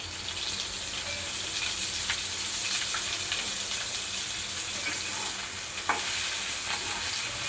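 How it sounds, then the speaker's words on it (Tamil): Cleaned banana flower sautéing in a teaspoon of oil in a pan, a steady close sizzle and frying hiss with faint stirring scrapes throughout. "இப்போ 1 டீஸ்பூன் எண்ணெய் விட்டுக்கலாம். இதில் ஆஞ்சு சுத்தம் பண்ணி வச்ச வாழைப்பூ சேர்த்து ஒரு வதக்கிக்கலாம்."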